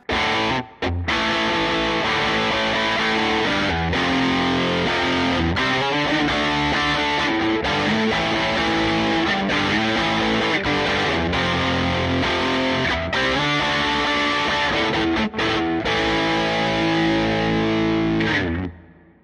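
Electric guitar played through a Rodent distortion pedal model on a Fender Tone Master Pro: continuous thick, fuzzy distorted chords and riffs with rhythmic strumming and brief pauses, loud and steady throughout.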